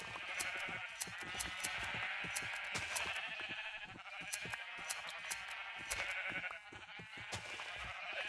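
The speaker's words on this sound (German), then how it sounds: "Ist ja doch schon eine ganze Menge mit den ganzen Schafen, ey." A flock of sheep bleating in Minecraft, repeated overlapping bleats in a steady stream, fairly close and continuous throughout.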